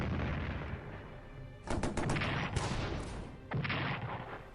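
Artillery fire in the WWI strategy video game Strategic Command, a continuous rumbling barrage with bursts of sharper cracking booms, loud and steady with no talking.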